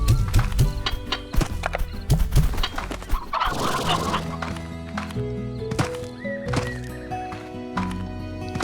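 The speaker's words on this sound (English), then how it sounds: "so that's why I'll just shoot these chickens." Chickens cluck in the Slime Rancher video game, with repeated short clucks and squawks over game sounds and a busy burst of noise midway.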